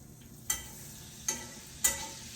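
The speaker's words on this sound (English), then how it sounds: "when that oil heats up, I'm also going to put a little bit of butter in our potatoes" Potatoes cook in hot oil with butter, giving a faint, low sizzle, while three sharp clinks or stirs land about a second apart.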